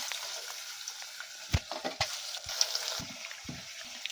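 Onions and green chillies fry in a pan for tomato rasam, a soft steady sizzle broken by several sharp clacks of a spoon stirring against the pan, with no voices.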